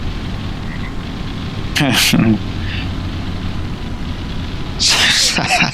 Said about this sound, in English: frog making a frog noise